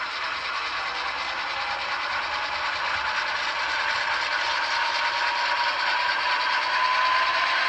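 A model train's 4,000-horsepower diesel locomotive sound unit runs on a layout, giving a steady, droning engine hum and rumble that stays even and continuous throughout, with no talking.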